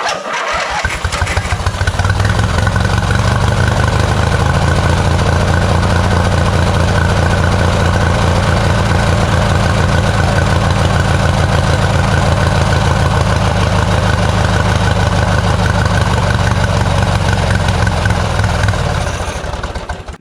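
A turbocharged lawn mower engine fires up for the first time with a fresh turbo and new turbine inlet, catching quickly and running loud and steady at close range with a rough, throbbing exhaust for about twenty seconds.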